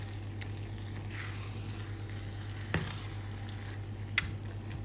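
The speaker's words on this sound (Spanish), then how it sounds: "Y después nos vamos a poner a cocinar esta salsa de tomate." Tomato sauce for shakshuka sizzles steadily in a frying pan, a soft, even crackle with a few brief pops, heard alone over a low constant hum.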